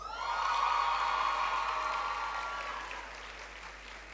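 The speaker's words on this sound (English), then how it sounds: "Can I hear some applause?" An audience at the 2023 Manning's School valedictory service in Jamaica breaks into loud applause mixed with cheering and whoops, swelling quickly and then slowly fading over a few seconds.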